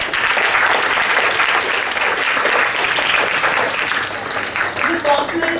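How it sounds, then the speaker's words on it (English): Sustained applause from a school audience at an award ceremony honouring the school's teams, a dense, even clatter of many hands that holds steady throughout, with a few voices mixed in. "a big round of applause for them"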